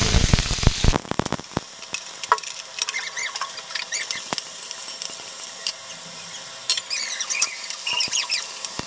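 Potatoes hitting hot oil tempered with green chilli and nigella seed, a loud burst of crackling in the first second, then a steady busy sizzle with scattered pops and light utensil scrapes, no voices.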